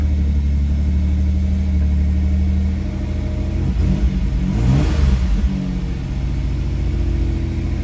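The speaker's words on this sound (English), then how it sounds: "fire this awesome machine up for you and give you a sample of what she sounds like" A fuel-injected engine in a 1988 Pontiac Fiero Formula, started cold with no carburetor, runs with a steady close rumble. It swells into a brief louder rev near the middle, then settles back to an even idle.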